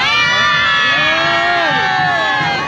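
A large, dense crowd at a 50,000-person event in Surabaya, East Java, Indonesia, cheers and whoops loudly, with voices shouting close by over a constant wash of crowd noise.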